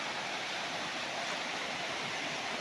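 River water flowing past a farm lot in Majayjay, Laguna, a steady broadband rush of current, even and continuous without voices.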